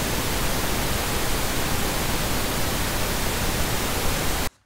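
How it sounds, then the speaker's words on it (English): An unequalized pink noise test signal plays as a loud, even, broadband hiss that holds steady for several seconds before cutting off abruptly. "we need to listen to the unequalized pink noise"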